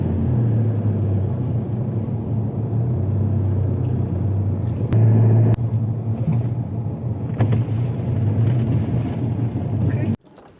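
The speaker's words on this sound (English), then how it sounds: "Having fun with lorries on the highway." Heavy lorries drive along a highway, making a loud, steady engine rumble and road roar that continues for several seconds before cutting off abruptly.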